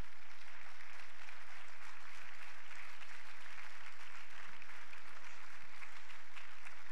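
A church congregation at a Spanish-language service gives sustained applause, a steady crowd of clapping hands heard from a moderate distance with faint low hum beneath.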